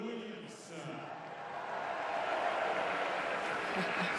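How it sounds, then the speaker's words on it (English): Crowd ovation on Court Philippe-Chatrier at Roland-Garros greeting Serena Williams, a distant wash of applause and cheering that swells gradually, with talk over it. "Serena really does deserve this ovation that she'll get from the Chatrier crowd"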